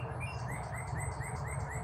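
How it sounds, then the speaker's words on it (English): A bird at a campsite repeats quick, bright chirps in a steady rhythm over a low background hum, fairly close and clear. "I don't know what the hell bird that is making the noise."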